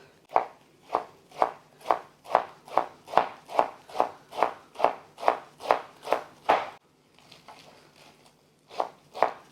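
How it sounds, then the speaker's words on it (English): A knife chops a handful of baby spinach on a board in a steady, even rhythm of about seventeen crisp, close strikes, then pauses briefly before two more cuts; no voices. "We've just got a good large handful of baby spinach, and we're just going to roughly chop."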